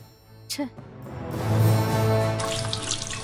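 Water is poured in a Tamil short film drama, running as a steady splashing stream that swells into a loud, close flow. A brief vocal sound comes just before.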